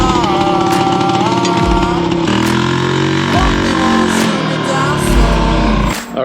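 An old Harley golf cart engine runs loud and close with a rough, throbbing idle, then revs and labors as the cart moves off, with brief knocks and rattles throughout.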